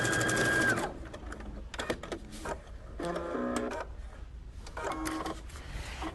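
Sewing machine stitching in the ditch along a seam of corded scallops, quick mechanical whirring bursts separated by short pauses, nearby and moderately quiet.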